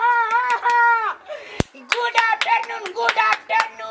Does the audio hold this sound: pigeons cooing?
no